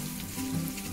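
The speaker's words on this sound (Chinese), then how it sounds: "我用半煎炸的形式，慢火咁煎炸佢，" Fish cakes of minced fish and pork with corn kernels shallow-frying slowly over low heat, giving a steady, soft sizzle close by with no voices.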